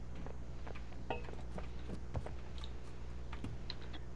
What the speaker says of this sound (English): I'm using a keyboard.